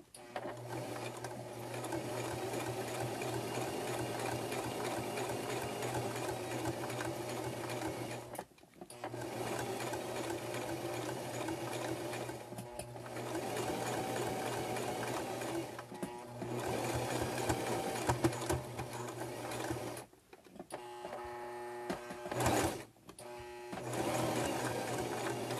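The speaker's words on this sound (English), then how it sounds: "you have to kind of go slow when you're sewing a circle" Sewing machine stitching fabric slowly around a circle for an earbud pouch, a steady close mechanical whir that pauses briefly several times as the fabric is shifted, with a lower hum underneath.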